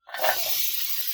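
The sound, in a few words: oil heating and hissing in a pan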